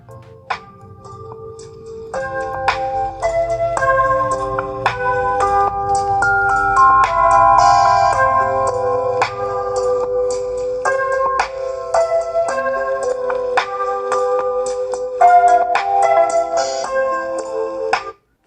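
A Nokia 5.3 phone loudspeaker plays a bright, clear melodic tune loudly and without distortion, a steady run of ringing tones with tick-like accents.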